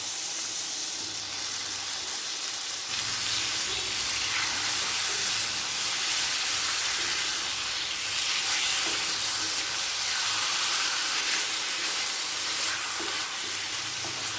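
Chicken marinated in yogurt hits a pan of sautéed masala with a loud, dense hiss that swells after a few seconds and roars on steadily, heard up close with no talking.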